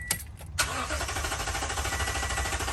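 A Toyota Tundra engine cranks briefly, stalls, then catches and runs with a steady, close idle-like rumble for the rest of the moment, loud and continuous with no talking.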